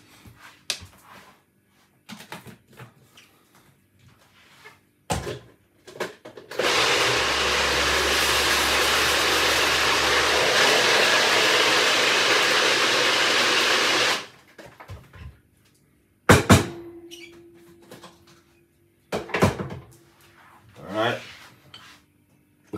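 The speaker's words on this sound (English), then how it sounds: "Because my blender is a small blender." A small blender whirs loudly and steadily for about seven seconds making sea moss gel, starting and stopping abruptly, with brief clatters and quiet sounds around it.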